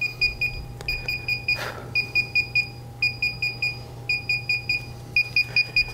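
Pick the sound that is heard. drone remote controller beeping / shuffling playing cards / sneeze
drone remote controller beeping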